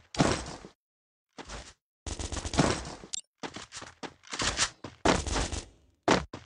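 Several bursts of rapid automatic gunfire from a Mini Uzi in a video game, each lasting about a second, separated by short silences, loud and close.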